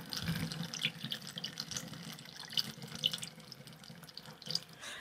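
Homemade apple scrap vinegar pours through a funnel into a slightly tinted jar, a steady close splashing trickle of liquid with small drips, with no talk.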